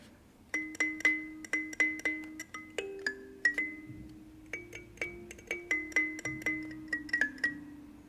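A nine-key kalimba plucks a series of bright, ringing metallic notes one after another, stepping through a scale-like melody with each tone decaying gently.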